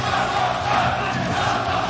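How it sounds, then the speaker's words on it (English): A crowd roars and cheers loudly and continuously at a Super Smash Bros. Ultimate tournament, a dense wash of voices with no single speaker standing out. "The crowd cheering one more stop for their boy Homika"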